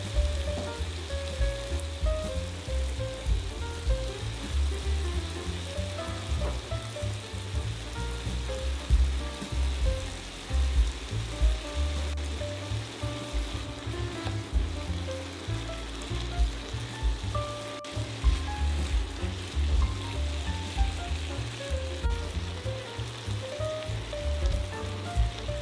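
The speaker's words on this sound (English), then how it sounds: "We will continue frying and add the yellow, red, orange and green peppers that we had reserved." Broccoli and bell peppers frying in a pan, giving a steady, dense sizzle and crackle that continues without a break at close range, with no voices over it.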